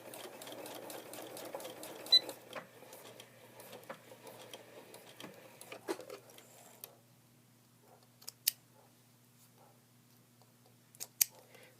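Sewing machine stitching an invisible zipper onto a single fabric layer at the centre back seam of a skirt, running in a steady mechanical burst for several seconds, then stopping, leaving faint handling clicks and taps.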